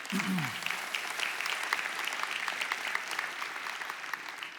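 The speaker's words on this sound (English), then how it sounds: "So, yeah, you can clap for that." Church congregation applauding in a large auditorium, a sustained, even roar of many clapping hands with a brief voice at the very start.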